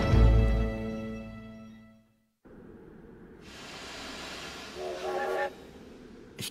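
A train in the video game Dracula 3: The Path of the Dragon, with a loud harmonic horn-like whistle that fades out, a moment of silence, then steady rumbling rolling noise with a brief hissing burst near the end.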